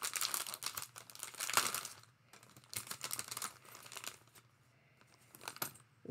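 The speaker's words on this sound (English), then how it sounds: "more crinkles" Plastic packaging crinkles as embroidery trims are unwrapped, quiet close bursts of crackling rustle separated by short pauses.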